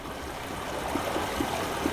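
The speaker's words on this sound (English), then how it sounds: "Oh, that sounds like water." Flowing water in the Myst video game, a steady soft rushing wash with a few faint bubbly blips rising out of it near the end.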